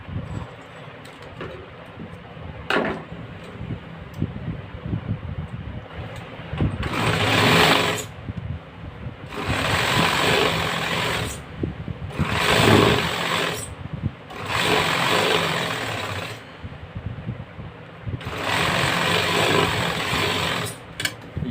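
A sewing machine stitching a garment collar runs in about six short, loud bursts of rapid whirring, separated by brief pauses with faint handling noise.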